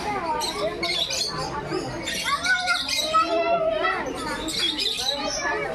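Several birds squawk and chatter in harsh, overlapping calls throughout, close by, with a voice talking underneath.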